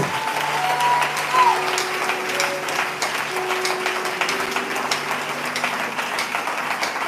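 Church congregation applauding in a French-speaking service, dense sustained clapping from a crowd with a few held musical tones and voices mixed underneath.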